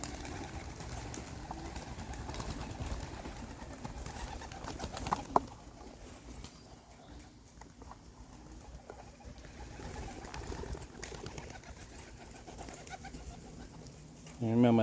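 Young pigeons coo softly in a backyard, a faint low murmur under steady background noise, with a brief knock near the middle and louder movement at the end.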